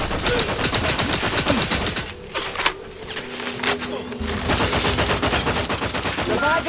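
Rapid automatic gunfire in The Outer Worlds 2, loud sustained bursts that pause briefly midway under a tonal game sound, then resume, with in-game voices speaking over the shooting.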